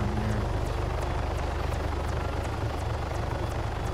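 Police helicopter in the Arma 3 Altis Life game, a steady loud rotor drone with low engine rumble and faint periodic blade slaps throughout, no talking.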